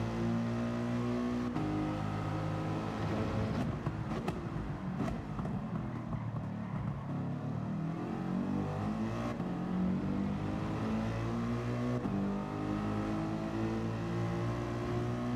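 Race car engines from the Gran Turismo 7 video game during a World Series manufacturers round race including a Volkswagen Beetle, layered revving and shifting engine tones rising and falling continuously, with no talking.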